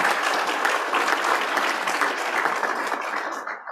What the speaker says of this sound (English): how about a round of applause for those people who've already come through